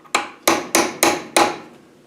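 A hammer taps a part through the casing of a Land Rover Defender LT85 gearbox during a rebuild, giving five sharp, close metallic knocks at an uneven rhythm with no talk.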